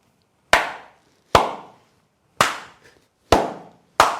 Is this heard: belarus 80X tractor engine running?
no